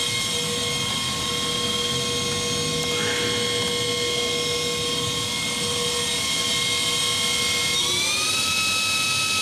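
A Cincinnati Milacron Arrow 1250 vertical machining center spindle spins at 5000 RPM, giving off a steady high-pitched whine with layered tones that hold level and then step slightly higher near the end, alone and continuous.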